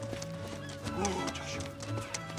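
Horse hooves clip-clopping on the ground with a brief whinny, moderately close, heard under a person speaking quietly to the horse.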